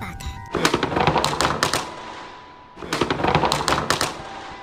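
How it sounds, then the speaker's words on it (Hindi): A BMW 340i exhaust popping and crackling like firecrackers, two rapid bursts of loud sharp cracks separated by a short pause, close by, with voices faint in the background. "ये होते पटाखे BMW 340i"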